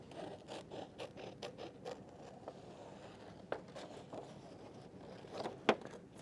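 Scissors cut a tight, curving shape out of paper for a kids' desert landscape painting project, giving a string of soft, close snips and crinkly paper rustles. No talking.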